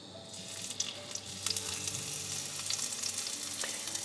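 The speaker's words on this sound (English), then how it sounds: "frying your vegetables" Vegetables sizzle and crackle in hot olive oil in a frying pan, a steady frying hiss with small pops, fairly quiet and close, with no talking.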